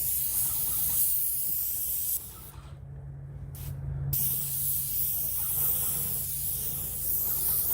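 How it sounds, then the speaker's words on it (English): A spray gun hisses lacquer undercoater onto old lacquered cabinets outdoors, a continuous close spray that cuts out briefly twice before resuming steadily. "zapping these with lacquer undercoater"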